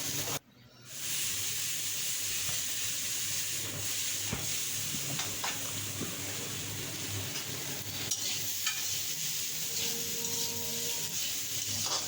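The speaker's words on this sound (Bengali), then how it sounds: "এগুলো এখন আমরা তেলের সাথে মিশিয়ে নিতেছি।" Vegetables and spices for shukto are mixed in hot oil, giving a steady close sizzle with scraping stirring strokes throughout after a brief quiet start.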